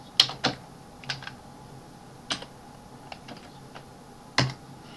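Equations are typed into Mathcad 14 on a computer keyboard, with sparse, uneven clicks and clacks of individual keys and short clusters of strokes, close and crisp against a quiet room, with no speech.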